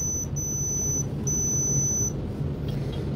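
High-pitched electronic beeps from a tester checking a microwave oven component sound in short bursts, two quick ones then longer tones, over a low steady hum.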